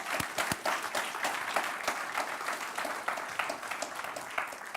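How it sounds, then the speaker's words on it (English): An audience at the UT Challenge 2021 grand finale gives a sustained round of applause, many hands clapping in a dense, steady patter with a few sharper individual claps standing out, fairly distant and even throughout. "a big round of applause"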